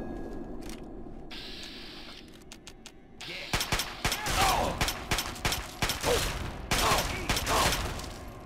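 Gunfire in Fallout 3, with rapid loud bursts of shots and impacts following a quieter stretch, over a continuous game soundscape with occasional speech.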